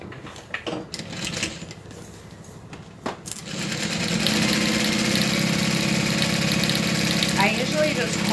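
A sewing machine runs steadily stitching a straight line on a zip-around wallet, a continuous mid-pitched motor hum after a few seconds of quieter handling noises.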